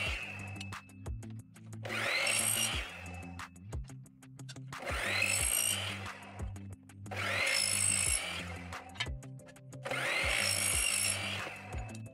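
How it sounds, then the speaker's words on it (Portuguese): A hand file scrapes cutting burrs off a freshly cut door profile, heard as four loud, close rasping strokes spaced a few seconds apart, with quieter gaps between them and no speech. "Agora nós vamos estar tá passando a lima, né? Tirar a rebarba de corte"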